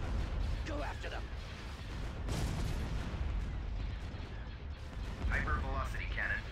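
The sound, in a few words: hypervelocity cannon firing in Imperial Civil War video game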